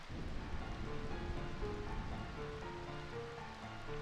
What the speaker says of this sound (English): I find this rain quite pleasant.